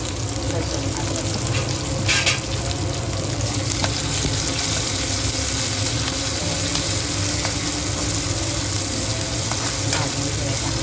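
Curry leaves, green chilli, garlic and ginger fry in hot oil in a pan, a steady dense sizzle with a few crackling pops and stirring scrapes, close and continuous throughout.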